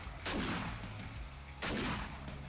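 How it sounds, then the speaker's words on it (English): Two heavy shotgun blasts ring out several seconds apart while fighting zombies in the video game 7 Days To Die, each a loud, booming shot with a short decaying tail. "But look what the shotgun does"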